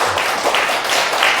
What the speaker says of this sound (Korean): 다시 한번 박수를 좀 보내드렸으면 좋겠습니다